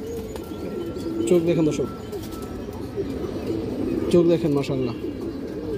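Fancy pigeons, including a black one, give soft, repeated coos in the background while someone talks over them nearby.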